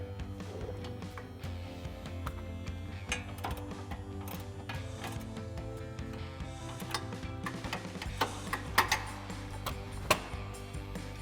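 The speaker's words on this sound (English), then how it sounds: "tighten that one last bolt with an 18mm ratcheting wrench" An 18mm ratcheting wrench tightens a bolt on the front suspension of a 2015-or-later Ford Mustang in the wheel well during a Roush sway bar install. Quick, irregular ratchet clicks come up close over a steady low hum, with a few sharper metallic taps near the end.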